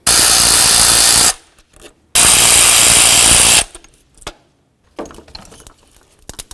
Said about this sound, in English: Now let's remove these two mounting bolts.